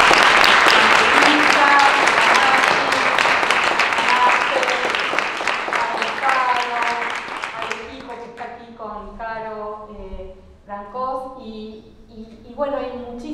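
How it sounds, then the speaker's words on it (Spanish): An audience at a panel dialogue session breaks into loud sustained applause that fades after several seconds as a voice resumes speaking over the last scattered claps. "quiero que los aplaudamos a todos"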